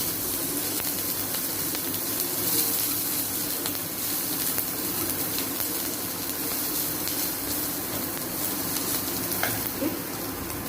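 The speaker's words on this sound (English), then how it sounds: "Saute this." Prawn masala sautéing in a pan gives a steady, close sizzle and frying hiss throughout, with faint stirring scrapes and no talk.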